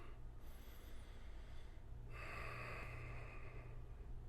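A person doing a morning mobility routine takes a slow, deep breath, heard as a faint airy inhale and a stronger exhale close to the microphone over a low background hum, with no speech.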